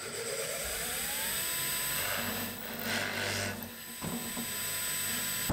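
A drill bores a test hole into oak, a steady grinding whir of bit against wood that holds throughout, close and fairly quiet, with a short lull partway through.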